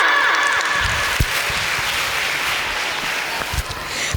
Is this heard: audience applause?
yes